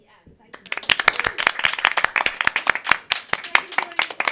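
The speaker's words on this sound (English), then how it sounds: "can we please give a round of applause to our players and to our GM?" A small audience claps for the players and game master at the end of a live tabletop roleplaying game stream, crisp individual hand claps building into quick uneven applause, close, with some cheering voices.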